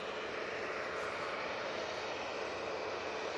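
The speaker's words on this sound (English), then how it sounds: "We've got another TUI heading on towards us. This one's off to Funchal, 737-800." A TUI Boeing 737-800 approaching at Manchester Airport, a continuous broadband engine roar that stays steady and fairly loud through the short stretch, with no talking.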